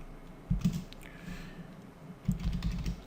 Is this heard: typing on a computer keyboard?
yes